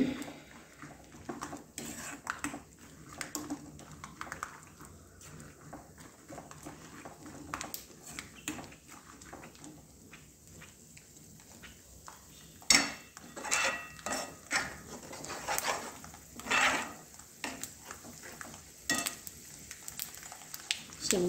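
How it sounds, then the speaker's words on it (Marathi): Peanuts being sautéed and stirred in a pan, with intermittent scraping and clinking of a spoon against the metal over a faint sizzle, uneven bursts of stirring separated by quieter moments. "शेंगदाणे थोडेसे परतू द्यायचे आहेत."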